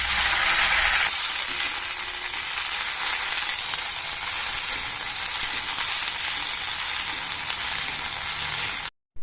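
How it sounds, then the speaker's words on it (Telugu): Mint leaves dropped into hot oil in a kadai on a stove, giving a loud, steady close sizzle that holds for several seconds and then cuts off abruptly, with no talking. "స్టవ్ మీద కడాయి పెట్టి అందులో నూనె వేశాను. నూనె వేడెక్కింది. ఈ ఆకును వేస్తున్నాను."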